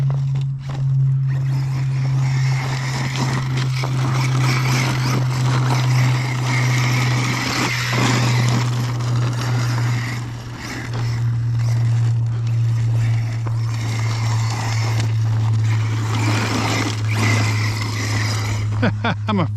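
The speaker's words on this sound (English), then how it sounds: "I'm afraid to do burnouts in front of me. It's spitting so many rocks out." An Arrma Mojave 6s EXB RC car does burnouts and spits rocks, giving a steady, droning motor whine with gritty crunching and spraying debris throughout.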